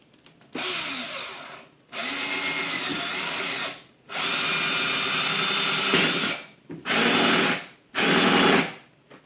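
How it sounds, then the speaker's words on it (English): A power drill whirs loudly in several bursts, revving up and cutting off with short pauses between runs, close by and with no one talking. "I'm going to take the drill and I'm going to just kind of go in the middle"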